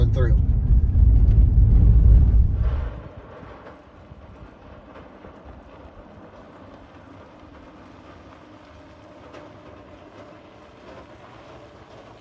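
A Chevy Silverado EV 4WT electric pickup pushes through a muddy dirt section with its throttle held open. A loud low rumble of tires and driveline runs for about three seconds, then drops to a faint steady rolling noise under wind.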